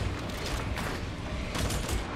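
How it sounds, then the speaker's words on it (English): Rapid, dense gunfire from the Warhammer 40k: Darktide video game, a busy wash of shots and mechanical clatter with several louder bursts, steady and loud with no pauses. "Stop shooting us!"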